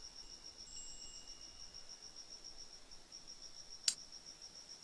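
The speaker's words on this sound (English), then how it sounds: "Let's get the crickets out. The annoying little crickets." Crickets chirping in the video game Genshin Impact, a continuous high thin trill held steady and fairly faint, with one brief sharp click near the end and no talk.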